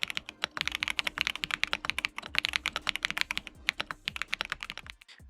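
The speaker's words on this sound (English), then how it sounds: "The great thing about this keyboard is that it sounds super creamy and it's very responsive" Steady, fast typing on a responsive mechanical keyboard with an RGB-lit desk setup, crisp close keystrokes clattering in quick irregular runs, then a brief pause at the end; no voices.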